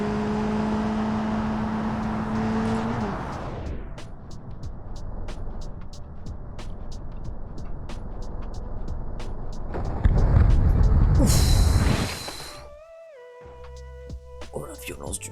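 A car in the BeamNG Drive video game strains as it accelerates toward a caravan at around 130 km/h, its engine whirring steadily before a loud crashing burst, with a voice talking over it.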